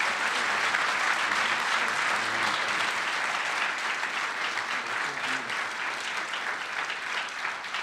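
Sustained applause from an audience at a county district attorney's outstanding citizen awards ceremony, a steady dense clapping that fills the whole stretch with no break.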